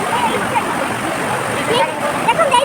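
The Khasada waterfall near Daringbadi in Odisha gives a steady, broad rush of flowing water that fills the background while people talk nearby.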